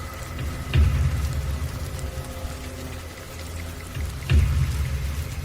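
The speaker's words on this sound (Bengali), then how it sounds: "আবার শুরু হলো বৃষ্টি।" Rain falls steadily at night as an animated sound effect, a dense continuous patter, broken twice by a deep thud.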